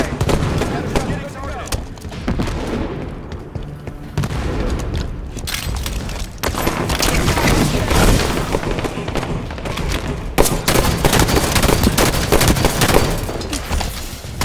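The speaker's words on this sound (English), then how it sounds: "Throwing a grenade. Enemy grenade." Rapid gunfire and booming grenade explosions fill a Halo 5 ranked Slayer match, dense and loud throughout with repeated bursts and blasts, and a voice talking over the action.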